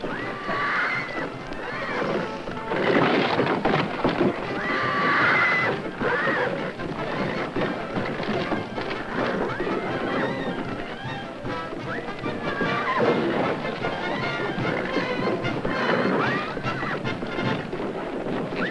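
A horse whinnies in several loud, close bursts over a dense, busy background of hoof clatter and general commotion, with the neighing repeating at intervals through a steady, crowded din.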